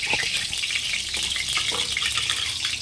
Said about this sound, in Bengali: কড়াই গরম বসিয়ে দিয়েছি, তেল দিয়ে দেব, আর দেব শুকনো লঙ্কা আর কালো জিরে ফোড়ন